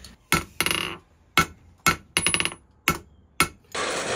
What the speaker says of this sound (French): avec vraiment les marteaux boules comme ça, il y a presque moyen de percer la matière